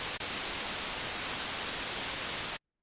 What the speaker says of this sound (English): instead of this actually playing back a sample, it now turns into kind of a noise generator